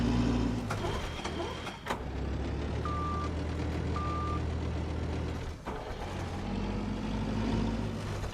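A forklift in The Last Caretaker gives two short reversing beeps near a large grinder, over a steady low engine rumble, with no one speaking.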